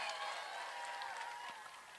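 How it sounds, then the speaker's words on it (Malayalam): An audience at an Onam stage show applauds to welcome the headmaster, a sustained burst of clapping that stays even and then tapers slightly, with a faint murmur of voices underneath. "ഒരു കയ്യടി കൊടുത്തുകൊണ്ട് നമുക്ക് ഈ വേദിയിലേക്ക് സ്വാഗതം ചെയ്യാം"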